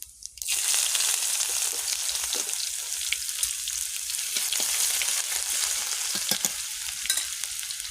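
Bay leaf, dried chilli, panch phoron, black cumin and cumin drop into hot oil and burst into a loud, dense crackling sizzle with scattered pops, continuing steadily and alone.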